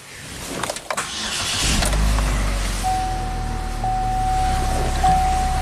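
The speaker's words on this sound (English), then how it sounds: "I hear the high pressure fuel pump" A Chevrolet HHR SS Turbo engine turns over and settles into a steady hum, with a thin, continuous high-pitched whine from the high-pressure fuel pump rising above it, close and constant.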